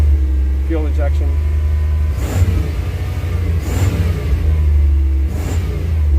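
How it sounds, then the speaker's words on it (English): An old 350 fuel-injected engine that tops out around 4,000 rpm, idling with a deep steady rumble and then revved in three short rising bursts, loud and close. "This engine doesn't rev like my 360."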